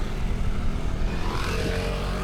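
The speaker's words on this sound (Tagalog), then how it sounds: "So mag-drone tayo." A camera drone hums steadily overhead near a waterfall resort, its whirring motor noise loud and continuous with no talk.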